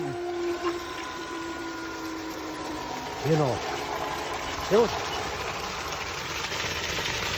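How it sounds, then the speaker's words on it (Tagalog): A solar-powered water pump runs with a steady mechanical drone and flowing water, while someone speaks briefly over it in short exclamations. "Ayan po yung solar pump"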